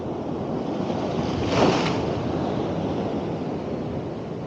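Ocean surf breaks on coastal rocks and rock pools, a steady loud wash of churning water with one swell rising and crashing midway, wind buffeting the microphone throughout.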